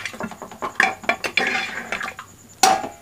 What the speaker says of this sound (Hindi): अब हम इसे चलाते हुए अच्छे से भूनेंगे थोड़ी देर के लिए